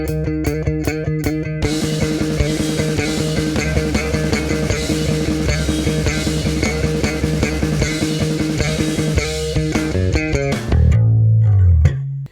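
Driving bass guitar riff from a song's intro at 155 beats per minute, played loud and steady in a busy full mix, ending with a sustained note.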